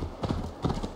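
Horse hooves clip-clopping at a walk in Assassin's Creed Valhalla, a few close, moderately loud hoof falls in quick uneven pairs with faint rustling between.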